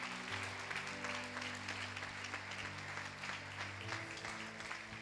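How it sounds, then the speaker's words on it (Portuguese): A Baptist church congregation claps during a service, a sustained wash of many hands over a held organ or keyboard chord, fairly soft and steady from start to finish. "Pode aplaudir mais forte."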